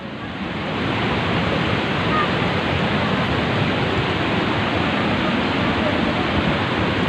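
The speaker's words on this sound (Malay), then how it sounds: "Hujan masih deras." Heavy rain pours and floodwater rushes through a flooded village in Aceh Utara, Indonesia, a steady, dense roar that stays loud and unbroken throughout with no voices.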